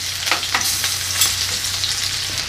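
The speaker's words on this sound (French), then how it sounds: "Nos pommes de terre commencent à dorer, on les retourne" New potatoes frying and browning in salted butter with garlic, thyme and rosemary, a loud, close, continuous sizzle broken by quick stirring and turning scrapes, no talking.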